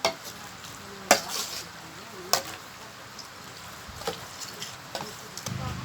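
A spoon stirring a pot of Isan-style young jackfruit soup, with scattered knocks and scrapes against the pot over a soft simmering background.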